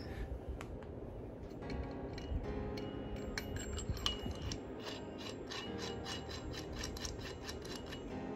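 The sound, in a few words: tightening a nut on a Dodge Charger hood pin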